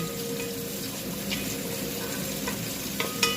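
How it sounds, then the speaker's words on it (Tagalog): Kabsa sizzles and fries steadily in a pan, with occasional clinks and stirring scrapes near the end; no talk. "Ipiprito ko lang po siya ng konti."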